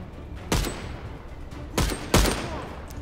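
Gunfire in the video game Contraband Police, three sharp loud shots spaced about a second apart, each with a short ringing tail over steady low background noise.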